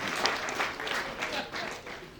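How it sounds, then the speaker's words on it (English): A room full of people at a panel debate claps steadily for a speaker, a dense patter of applause that rises and dips slightly over a couple of seconds. "Let's applaud him."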